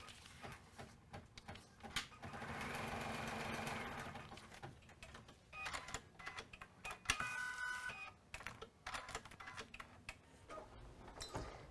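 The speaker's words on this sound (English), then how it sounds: "We are going to return this to the machine and we're going to stitch the placement lines" A Kimberbell embroidery machine stitches placement lines for an eye mask casing, giving a close mechanical whir with a sustained stitching run followed by irregular ticks, clicks and short bursts.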